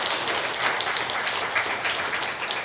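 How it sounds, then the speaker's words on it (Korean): A church congregation applauding in thanks, a dense, even burst of many hands clapping that holds steady for a few seconds, close and full, with no talk over it. "하나님께 감사의 박수를 올려드리겠습니다"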